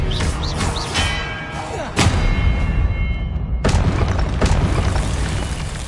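An Incendio fire spell is cast in Hogwarts Legacy during combat: a loud booming blast and thud over a dense, continuous battle din, with a second impact hitting a few seconds later.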